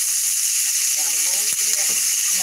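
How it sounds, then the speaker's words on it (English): Meat fries in a pan with a steady high hiss of sizzling throughout, with faint voices and a few clicks underneath. "It's just sizzling of the meat you hit."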